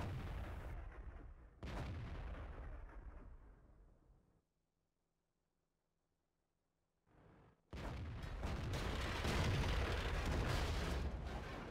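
Artillery fires on the Mines map in a ranked team battle of a tank video game, with loud booming blasts and rumbling, then a few seconds of near silence before another heavy, sustained barrage.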